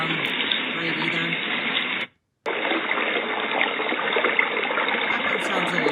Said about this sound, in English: This one I think is a creek.